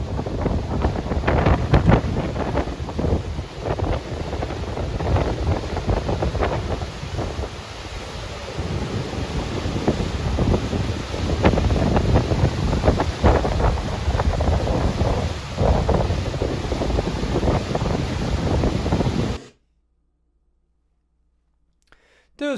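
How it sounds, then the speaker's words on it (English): Broad, steady rush of falling water at a waterfall in Kings Canyon National Park, California, loud and continuous with wind buffeting the microphone, cutting to near silence at the end. "Look at that beautiful waterfall."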